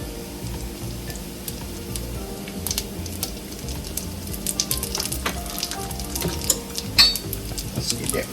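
Panko crusted salmon patties frying in oil make a loud, dense crackling sizzle up close, with scattered pops and a few spatula and pan clinks toward the end.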